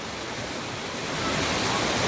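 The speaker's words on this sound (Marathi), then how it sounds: "खूप उंचावरून हा धबधबा पडतोय" A steady, dense roar of a waterfall dropping from a great height at Igatpuri fills the scene, broadband and continuous, growing slightly louder toward the end.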